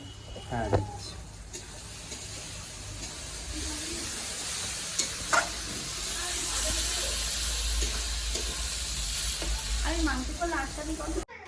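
Chicken pieces sizzle and fry in a hot pan as they are stirred and sautéed, a steady crackling hiss with occasional utensil clinks, close up under intermittent talk.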